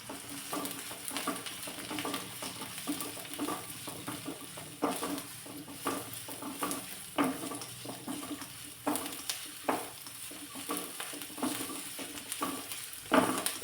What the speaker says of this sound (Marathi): थोडासा लालसर कलर येईपर्यंत कांदा परतून घेतला